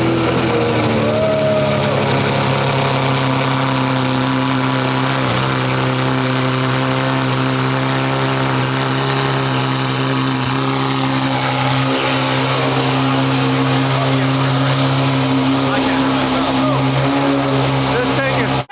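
A Lamborghini roars through a cold start and settles into a loud, rough idle, a dense steady engine drone with strong low harmonics that stays close and constant throughout.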